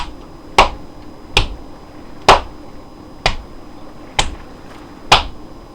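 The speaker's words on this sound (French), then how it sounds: "J'arrête d'applaudir" One person claps alone, six sharp separate hand claps at a slow, slightly uneven pace about a second apart, close and crisp over a quiet background.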